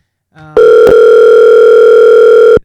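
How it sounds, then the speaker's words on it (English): A telephone call goes out: a brief dial tone and click, then a loud, steady ringback tone holding for about two seconds before cutting off, with no voices. "why don't we call Big Rob and see what he's up to, and if he will answer our phone today"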